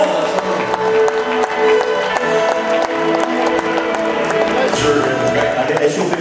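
Audience applause at a sports competition final in a crowded venue, continuous clapping mixed with crowd noise and bright sustained tones, while an announcer's voice carries over it.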